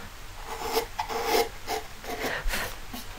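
Hand carving tools scrape and rasp against wood while a Springerle cookie mold is hollowed out, giving short repeated rubbing strokes heard up close with no talking.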